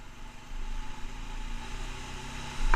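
A new motorcycle engine being broken in runs in third gear, a moderate, fairly quiet engine hum that rises in level partway through and again near the end.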